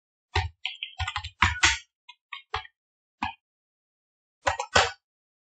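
Keys clatter on a computer keyboard while entries are made in Tally ERP9 accounting software. Bursts of quick, close clicks break up into short runs with silent gaps between them, and a final flurry comes near the end.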